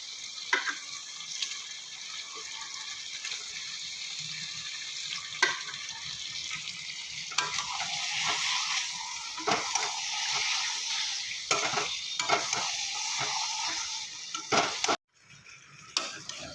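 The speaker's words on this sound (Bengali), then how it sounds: "এবার এক এক করে আমি এর মধ্যে চিকেনগুলো দিয়ে দেবো।" Chicken pieces dropped one by one into spice masala that has released its oil, frying in a pan: a continuous close sizzle with scattered clatters and scrapes of a spoon, ending abruptly.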